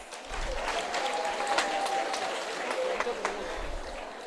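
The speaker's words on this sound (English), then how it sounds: "Let's give them another round of applause." Audience applause for children performing at a Uganda Girl Guides Association centenary event, a steady wash of clapping from a crowd, heard at a moderate distance.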